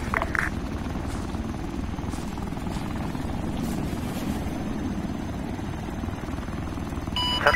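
A helicopter in the ArmA 3 video game flies nearby with a steady low rotor thrum and engine drone, constant and moderately loud throughout, with no voices.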